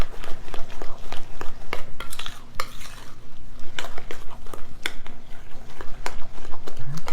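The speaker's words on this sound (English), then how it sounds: "I'm going to swap off and use my beloved spoon, as I call it, and just mix this together" A spoon stirs and scrapes through a thick pecan pie pizza topping in a bowl, giving repeated clinking taps and wet mixing strokes in a steady, close rhythm.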